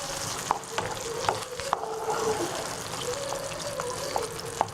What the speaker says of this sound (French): Donc là vous mélangez le tout.